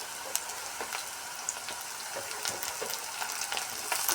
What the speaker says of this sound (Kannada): ಕ್ಯಾಪ್ಸಿಕಮ್ಮು, ಒಂದು ಬಣ್ಣ ಬರುವ ತನಕ ಚೆನ್ನಾಗಿ ಫ್ರೈ ಮಾಡಬೇಕು